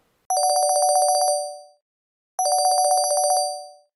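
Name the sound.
telephone ringing before a phone call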